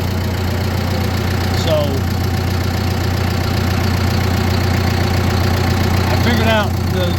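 A John Deere 5100E tractor engine idles with a steady, even low drone throughout, close and constant, with a brief spoken word near the start and a few faint squeaks.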